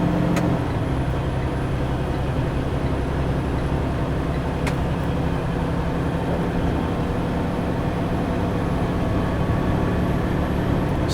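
A 2023 Newmar Supreme Aire 4509 motorhome cruises down the road, giving a smooth, constant broadband rumble of engine and tyre noise inside the cabin, with two faint clicks breaking the steady drone.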